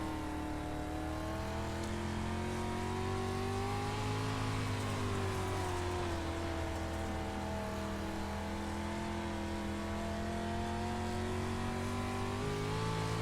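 Dirt race car engines in iRacing on a Lucas Oil dirt track, a steady droning roar whose pitch rises and dips slightly as the throttle changes, continuous and fairly close.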